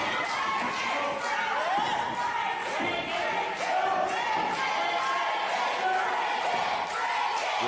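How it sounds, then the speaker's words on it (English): A wrestling crowd chants loudly and rhythmically, calling out to break the arm during a match, with the voices swelling and falling over occasional heavy thuds from the ring. "You hear the crowd chant, "Break it.""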